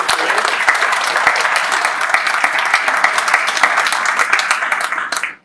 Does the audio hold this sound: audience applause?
yes